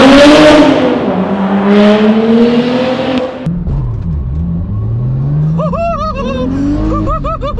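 A BMW E9X with a 15-inch wheel conversion launches hard, its engine revving up in loud rising sweeps, dropping briefly at a shift and climbing again, with faint tire chirps near the end.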